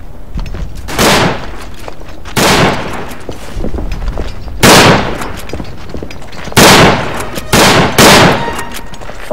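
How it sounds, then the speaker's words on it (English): Volleys of rifle gunfire in Verdun, a World War I shooter: loud sharp shots ring out every couple of seconds, each trailing a brief echo, with quieter crackling between them. "Firing squad here"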